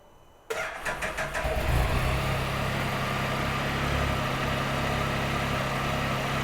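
A Can-Am Spyder F3 three-wheeled motorcycle engine cranks briefly with a few rapid starter pulses, catches, and settles into a steady, close, low idle rumble that continues to the end.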